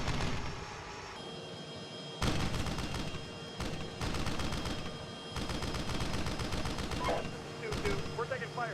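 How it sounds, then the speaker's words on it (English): Heavy automatic gunfire and bursts fill a military video game firefight, loud and continuous with sharp volleys, while voices talk over the shooting. "We're taking fire here."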